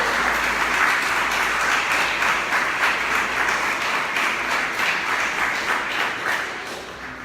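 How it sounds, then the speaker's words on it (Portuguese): A church congregation applauds during a sermon with dense, continuous clapping that fills the room for several seconds and tapers slightly at the end. "aplauda o nome de Jesus"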